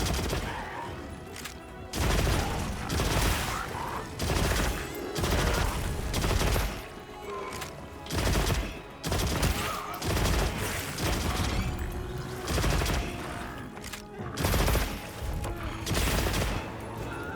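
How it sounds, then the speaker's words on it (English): Rapid-fire weapon mode in the video game Monster Hunter Wilds, sustained loud bursts of repeated shots broken by brief pauses, dense and continuous across the stretch with no talking. "I wasn't even sure if I was going to use the rapid fire mode on him"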